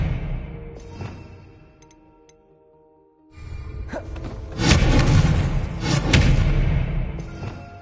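Spell effects in a Harry Potter video game, a disarming charm being cast: a soft whoosh fades into near silence, then a loud, swelling burst of magical rumbling and crackling impacts builds and lingers over several seconds.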